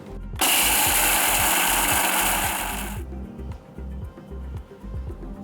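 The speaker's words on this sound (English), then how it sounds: "To the mixer jar, I've added 1/4 cup of Sabudana, that is sago pearls. I'm just going to powder this." Mixer grinder powdering a quarter cup of sago pearls in its jar, a loud dense whirring roar for about three seconds that cuts off abruptly, followed by rhythmic rattling and knocking as the jar settles.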